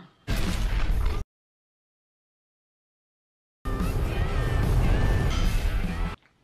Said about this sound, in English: Oh, it was fireworks.